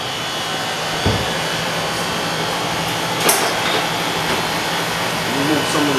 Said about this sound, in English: And we go to the condenser.